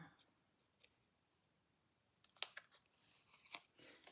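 Paper being trimmed for a handmade card, a couple of soft snips and rustles after a near-silent pause, faint and close.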